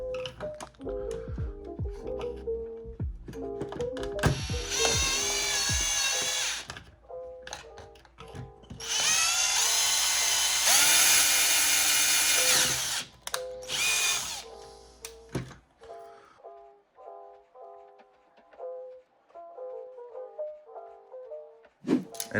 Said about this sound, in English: And then move up to a bigger drill bit.